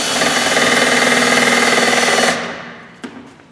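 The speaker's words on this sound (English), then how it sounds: "we'll pull the trigger on slow speed on the drill" A power drill runs on slow speed while building a chain ball, giving a loud, steady rattling motor buzz for about two seconds before cutting off, followed by a single faint click.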